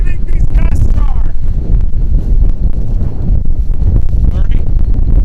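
Strong wind gusts blow over a reservoir during a fishing trip, buffeting the microphone with a loud, continuous roar, with a few brief voices and faint knocks heard under it.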